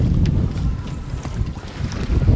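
Strong wind roars across a sailboat running with genoa, main and mizzen set, a dense low rushing noise with buffeting gusts and water movement, no voices.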